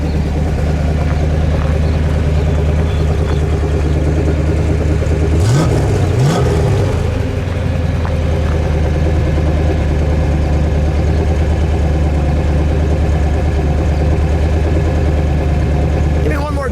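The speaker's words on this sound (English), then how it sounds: "Give me one more good rev, Bob." The 426 Hemi in a 1969 Dodge Charger Daytona idles loudly with a deep rumble, then revs twice in quick succession before dropping back to a steady idle, heard up close.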